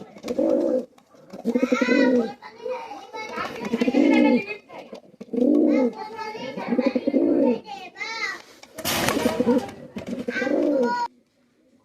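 Pigeons coo close by in repeated low, throaty bursts, with brief pauses between calls and a short flutter-like noise near the end.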